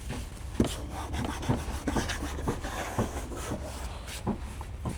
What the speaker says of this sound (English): Squeegee the top part, squeegee down like this.